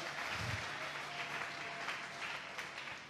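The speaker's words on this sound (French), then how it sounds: "Acclamons pour le roi des rois" Church congregation clapping and cheering during a French-language sermon, a dense, steady wash of applause that fills the space and holds for several seconds without speech.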